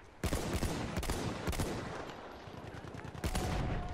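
Gunfire in Battlefield 1, loud rapid bursts and sharp single shots in close succession, with a brief lull before another volley.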